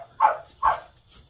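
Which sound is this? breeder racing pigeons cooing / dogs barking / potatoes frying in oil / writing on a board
dogs barking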